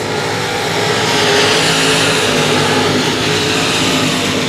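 Race cars roaring down the back straightaway at 281 Speedway, a dense, loud, continuous engine wash with layered tones from several cars running close together.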